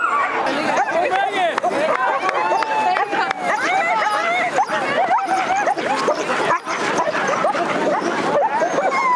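Many sled dogs bark, yip and whine excitedly all at once at the Yukon Arctic Ultra race, a dense continuous chorus with a crowd murmuring underneath.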